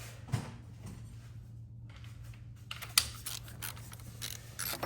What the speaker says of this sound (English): I started getting tight on it, so I'm gonna grab my torque wrench.